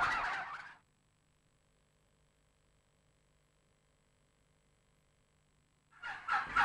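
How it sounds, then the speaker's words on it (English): Two rapid gobbling bursts from bronze turkeys nearby in a shed, one at the start and one at the end, with a quiet hum in between. "These are also premium-priced bronze turkeys."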